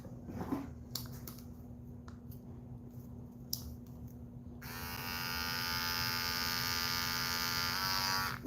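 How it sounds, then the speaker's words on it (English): An electric pet razor starts up partway through, its steady whirring buzz with a high rasp holding loud and constant after a few quiet moments of faint handling noises over a low mains hum. "This is a pet razor."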